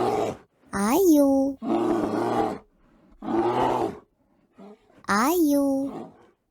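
A bear roars several times in long, loud, groaning bursts separated by short pauses, close and clear, with a brief grunt between them.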